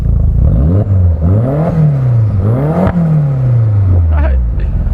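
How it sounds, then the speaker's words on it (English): A Volkswagen Golf Mk2 engine revs up and down repeatedly, rising and falling in pitch several times, loud and close. "Give it some revs."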